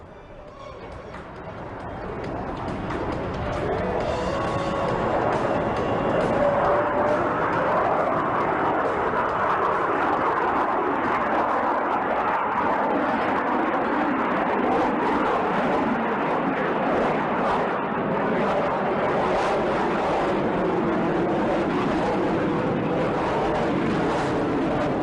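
An Indian Air Force Tejas fighter flies slowly at around 200 km/h in a display, its jet engine a steady, broad roar that builds over the first few seconds and holds loud throughout, with no speech.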